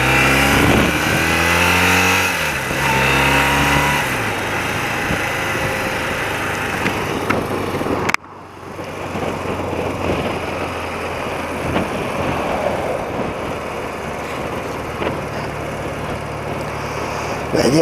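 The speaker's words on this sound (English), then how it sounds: "Let's just warm the engine up a bit, shall we?" An old motorbike's engine revs while being ridden to warm up, rising and falling through the gears in the first few seconds, then settling into a steady running drone with wind and road noise.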